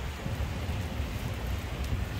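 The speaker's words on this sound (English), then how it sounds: "You want to go in this rain?" Rain falling outdoors at a beach resort on the coast, a steady dense hiss with a low wind rumble, moderately loud and continuous, without voices.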